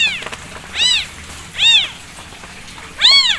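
A kitten meows three times in heavy rain, high-pitched rising and falling cries spaced about a second apart, close and clear over a steady hiss of rainfall.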